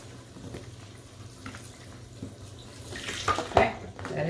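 Tap water runs steadily while locs are rinsed during a loc wash, a close, continuous splashing that grows louder and more turbulent toward the end, with no talking.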